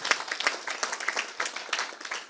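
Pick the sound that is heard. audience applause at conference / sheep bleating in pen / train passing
audience applause at conference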